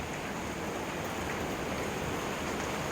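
Heavy summer rain pours down near beehives, making a steady, dense, even hiss with no breaks and no voices.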